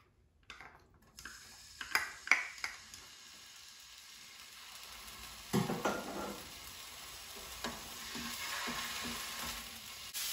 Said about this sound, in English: I'm just gonna saute this for like 30 seconds.